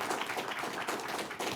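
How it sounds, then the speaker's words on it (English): Applause for panelists at the close of a legal panel event, a short burst of dense clapping from the audience, steady and fairly close, with no voices. "round of applause for our panelists"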